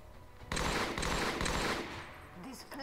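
Weapons fire from the turn-based tactics game XCOM, a loud sustained volley of rapid gunshots lasting about a second and a half, then tailing off into fainter rumble and game effects.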